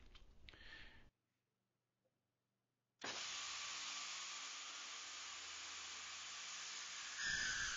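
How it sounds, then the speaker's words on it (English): A GANNOMAT Vantage line drilling machine bores rows of holes in coated panels: a brief burst, a silent pause, then a long steady high-pitched whir and hiss of drilling. "The results of this engineering is lines of holes consistently and accurately half or through bored with no chipping in most coated panels"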